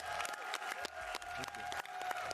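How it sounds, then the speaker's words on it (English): A crowd at an Xbox gaming event in London claps steadily in applause, dense and continuous, with a few sharper claps standing out and some voices mixed in. "We give everyone a round of applause."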